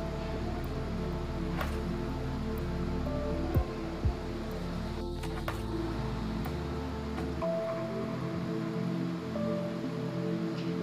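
Potatoes frying in oil in a pan: a steady, close, even sizzle and hiss that continues throughout with no pauses and no talking.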